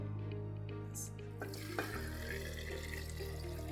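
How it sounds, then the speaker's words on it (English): Spiced rum is poured into a quart mason jar, giving a soft, steady liquid pour that stays faint and close, with a small clink partway through. "So I'm gonna open the spiced rum and just fill it to that line."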